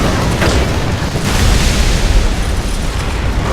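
Tank cannon fire and heavy explosions boom in the War Thunder video game, a dense, loud, continuous barrage of blasts and rumble with no voices.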